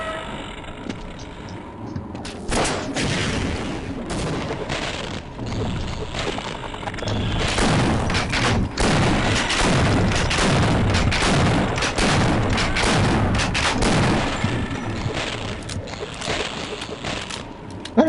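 Rocket launcher blasts in Half-Life, a dense run of heavy booms and explosions rolling almost continuously at high volume.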